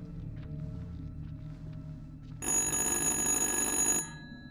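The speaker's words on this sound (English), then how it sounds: "So the phone's ringing." In the horror game Little Hope, a telephone bursts into a loud, bright, trilling ring for about a second and a half after a quiet, low ambient stretch, then stops abruptly.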